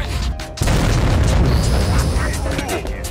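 A bomb detonating in the tank battle game World of Tanks, a loud sudden boom followed by a long rumbling roar that fills the rest of the moment, with people talking over it.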